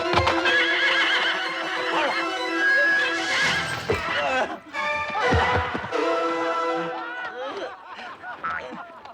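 A horse whinnies loudly and repeatedly at close range, with hooves clip-clopping beneath, in a period drama set in the Swiss era of William Tell; brief voices and snorts mix in around the neighs.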